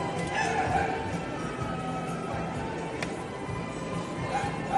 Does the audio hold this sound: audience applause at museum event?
no